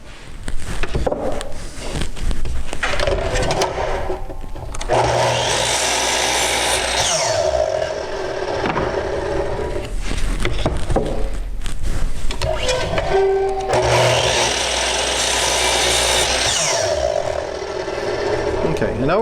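Power saw cutting wooden corner supports for a Kreg pocket hole jig, two long loud whining cuts separated by a brief pause, close by, with someone speaking at times.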